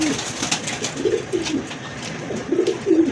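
Large fancy and racer pigeons coo in short, low, throaty bursts, several calls overlapping close by, with soft rustling and faint chirps around them and no talk.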